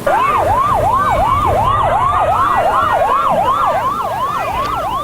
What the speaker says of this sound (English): complete with a fire truck escort with sirens blaring and lights flashing.